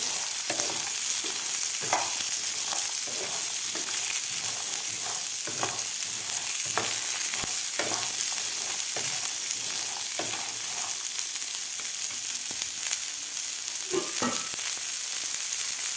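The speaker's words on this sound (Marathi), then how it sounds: "आता यामध्ये घालायचं आपल्याला हिरवा चणा घालायचा आहे व्यवस्थित आपल्याला हे मिक्स करून घ्यायचं आहे तेलामध्ये" Green chickpeas sizzle and fry in hot oil in a pan, with a steady crackling hiss throughout and repeated scraping stirs from a spoon, close up and with no talking.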